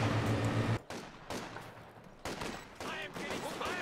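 SVT rifle fire rings out in a WWII strategy video game, with several sharp, loud gunshot cracks in quick bursts separated by short gaps, close and prominent.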